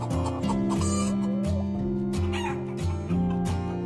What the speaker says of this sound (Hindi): मुंबई से कुछ ही दूर पर रेड बर्ड नाम की एक मुर्गियों की पोल्ट्री थी